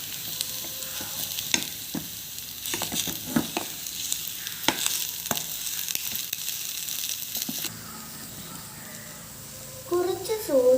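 A chilli mixture stirred and fried in a pan, with irregular scraping strokes over a crackling sizzle. A voice talks over it before the sound thins out near the end.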